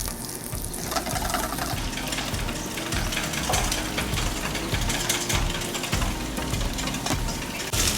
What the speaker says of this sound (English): when you move the whisk around the bowl